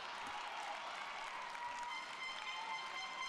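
Steady applause from a crowd at a women's handball match between Croatia and the Netherlands at the Women's EHF EURO 2014, a broad sustained clatter of clapping filling the arena with no talking.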